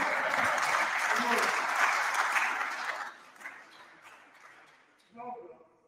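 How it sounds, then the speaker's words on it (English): Applause from the women in a lecture audience, a loud burst of clapping for about three seconds that thins into scattered claps, with a voice speaking briefly at the end. "Only the sisters are clapping."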